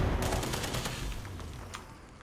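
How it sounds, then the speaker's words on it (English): Gunfire crackles in rapid bursts in the game Fallout 76, dense and loud over a continuous low rumble of blasts. "it becomes very loud very quick, as you can tell, because there's so much explosions going on"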